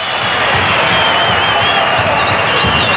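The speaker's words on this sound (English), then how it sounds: "Well, listen to the crowd." Stadium crowd roars at a 1990 rugby league match between Canberra Raiders and Easts: a loud, sustained wash of cheering and scattered clapping, dense and continuous.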